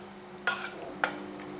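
Tempering of curry leaves is stirred into rava in a pan for oats pulihora, giving two short scraping, sizzling bursts over a faint background hum.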